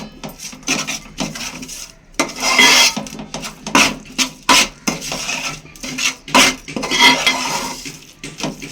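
A spoon scrapes and clanks against a metal pot while coconut masala gravy for fish curry is mixed, giving sharp irregular clinks and rubbing strokes, close and fairly loud, with no talking.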